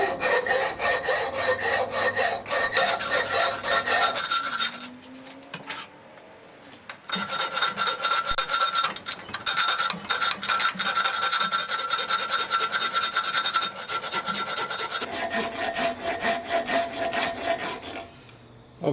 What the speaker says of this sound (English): That's what I'm filing down to.